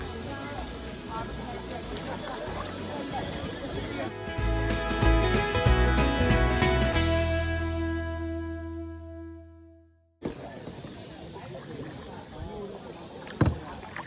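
A kayak rides over choppy, wave-tossed water near Kondura, Khavane, with sloshing and paddling sounds, a swelling tonal rush that fades to a brief silence, then rough water noise returning, and people talking along the way.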